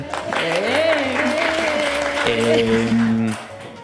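Audience applause at a live podcast recording, sustained and fairly loud, mixed with a tonal, voice-like or musical layer running underneath before fading near the end.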